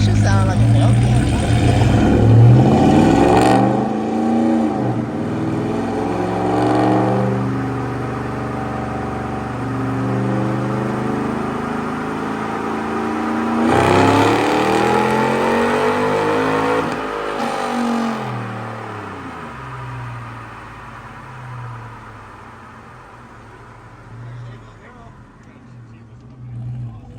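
A 392 HEMI work truck engine revs hard on a chassis dyno pull, rising and falling in long surging sweeps with a roaring exhaust, while people talk over it throughout.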